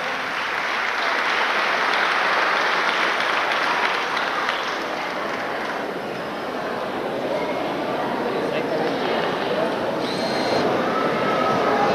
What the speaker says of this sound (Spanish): Fuertes el aplauso para Gerson Gobel